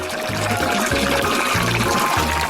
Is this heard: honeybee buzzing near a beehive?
no